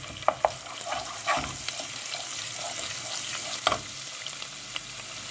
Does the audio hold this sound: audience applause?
no